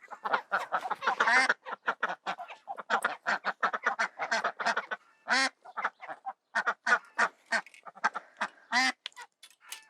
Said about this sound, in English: So these are the white ones, are miniature appleyard ducks, and the two kind of browny and fawny kind of colours are Khaki Campbell ducks.